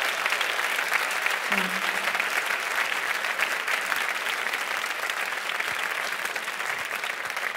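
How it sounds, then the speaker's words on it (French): Audience at Radio France's 2025-2026 season-opening evening applauding Nathalie Piolet, a dense, steady wash of clapping from a large hall crowd that holds evenly throughout. "Je vous demande de l'applaudir,"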